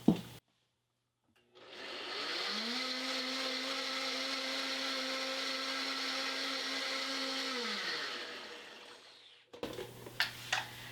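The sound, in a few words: blender blending dry keto pancake ingredients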